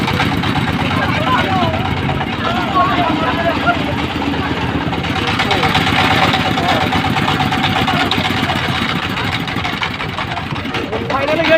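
A boat engine putters steadily as the boat moves slowly along the Jamuna river near the new rail bridge, a continuous mid-pitched drone running throughout with voices talking over it.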